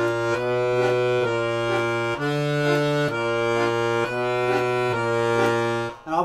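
An accordion plays a theme at full tempo: rich, sustained reedy chords over a bass line that shifts about once a second, loud and steady with no voices.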